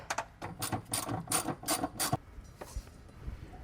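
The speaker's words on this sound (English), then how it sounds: "I'm just going to grab my 10mm ratchet and start working these down" A 10mm ratchet tightens bolts on a short throw shifter in a 2005-2010 Mustang GT, giving quick bursts of close, crisp clicking that stop abruptly, followed by faint handling noises.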